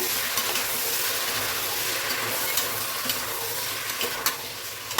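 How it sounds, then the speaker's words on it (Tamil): Five tomatoes go into a hot pan of frying tomato rice base and get stirred, sizzling steadily with a bright, continuous hiss and scattered scraping spoon strokes, close and fairly quiet, no voices. "இப்போது நான் தக்காளி ஒரு அஞ்சு தக்காளி எடுத்து வச்சுருக்கேன் போட்டுக்கிறேன்"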